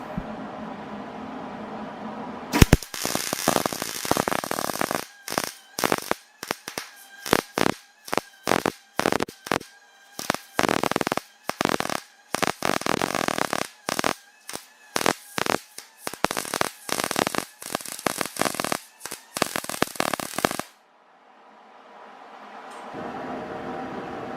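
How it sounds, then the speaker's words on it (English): A clamped metal piece is tack-welded in short spots. Harsh, loud crackling buzz comes in rapid stuttering bursts for about eighteen seconds, then stops abruptly, leaving quiet background. "So all I have to do is weld those little areas there."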